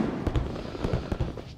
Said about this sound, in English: Watch out for folk chucking firecrackers.